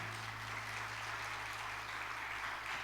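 Congregation applauding in praise during a church service, a steady, even wash of clapping that holds for about three seconds at moderate distance with no voices over it.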